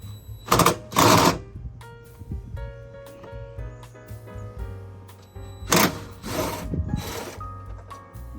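A ratchet works a 10 mm bolt on a car's air intake, giving bursts of quick clicking ratchet strokes separated by pauses, close and fairly loud, with no talking.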